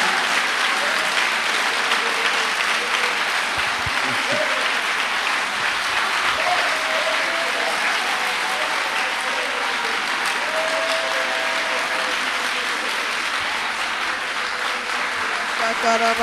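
Congregation applauding and cheering during a Pentecostal church service, a steady dense wash of clapping that fills the whole stretch with a few raised voices mixed in.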